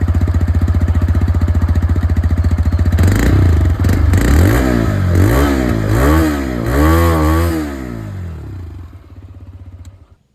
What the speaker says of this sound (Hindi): तो यहां पर इस 3 वाल्व इंजन की जो एग्जॉस्ट साउंड है वो भी आप लोग सुन लीजिए।